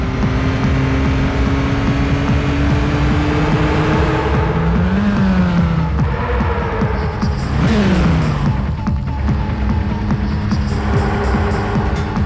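Race car engines rev and whine in the N64 rally game MRC, loud and continuous, with pitch sweeps rising and falling as the cars accelerate and shift, heard on their own.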